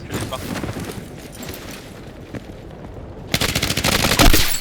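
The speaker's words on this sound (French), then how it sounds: "Ça tire de partout les gars." Gunfire rattles through a battle royale video game match, with bursts of rapid machine-gun fire that grow louder and denser toward the end, while players talk over it.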